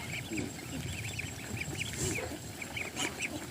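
A crowded flock of ducks packed together on a farm, with many overlapping quacks and honks over a busy background.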